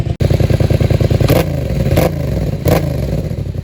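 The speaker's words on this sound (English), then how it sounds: "let's just give the exhaust another little blip" A Yamaha MT-07 motorcycle idles with a steady, lumpy putter, then three sharp throttle blips rev the exhaust briefly, evenly spaced over a few seconds, loud and close.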